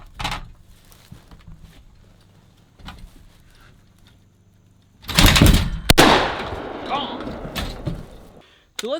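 Rapid semi-automatic 12 gauge shotgun blasts from a Panzer BP-12 G2 bullpup, a loud cluster of close booming shots around the middle with ringing decay, after sparse softer clicks and handling noises.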